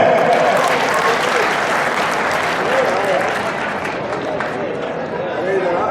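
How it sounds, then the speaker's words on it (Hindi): A large crowd at a BSP political rally in Kaithal applauds loudly and continuously, with clapping and some cheering voices mixed in throughout. "सारे चुपचाप से बैठ के ताली बजा दो जोर पे।"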